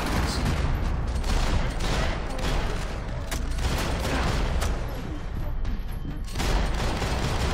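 Heavy, continuous gunfire in the video game Max Payne 3, with dense overlapping shots and sharp cracks at a constant loud level, and some voices mixed in beneath the firing.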